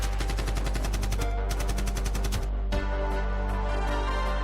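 Rapid machine-gun bursts as a sound effect in a tabletop wargame battle, troopers on battlements firing at an oncoming Gretchen horde: loud, dense repeated shots in several bursts over a continuous low rumble.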